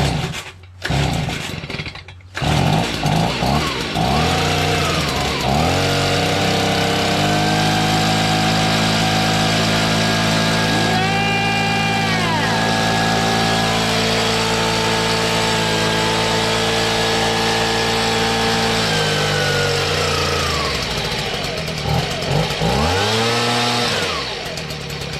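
A repaired Stihl BG55 two-stroke leaf blower engine fires up with a few rough sputters, then runs steadily and settles into a smooth idle, with a brief rev partway through and loud, close engine drone throughout.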